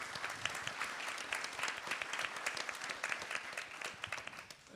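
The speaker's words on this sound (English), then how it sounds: "could we give Nicola a round of applause and a thank you for that" A round of audience applause for Nicola during a virtual event on ending the war on nature, quiet and somewhat distant, with individual claps popping out of a soft, uneven patter for a few seconds.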